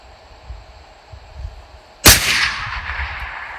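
A single sharp rifle shot cracks out at a mule deer 700 yards away on a long-range Utah hunt, a sudden loud blast with a rolling echo trailing off after a quiet, faintly rustling lead-in.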